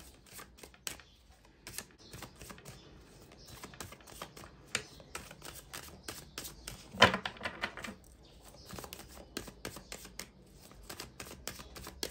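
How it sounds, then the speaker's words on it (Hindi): Tarot cards being shuffled and drawn for a reading, producing quiet, irregular riffling taps and soft card slaps with one sharper snap midway, close to the microphone and free of talk. "चलिए गाइस, निकालते हैं कुछ कार्ड्स।"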